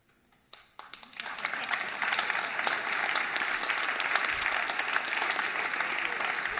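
Audience applause breaks out at a New Year's wishes event in Namur, starting with a few scattered claps and swelling within two seconds into steady, dense clapping from a large crowd that holds to the end.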